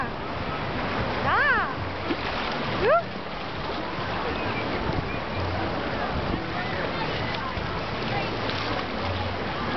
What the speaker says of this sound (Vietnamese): chuẩn bị cái sóng tới nè con